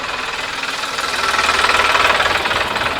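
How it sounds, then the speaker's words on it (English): A tractor engine rumbles steadily nearby with a knocking, throbbing beat, growing louder as it passes on a rural road about 77 km from Delhi. "That was a tractor."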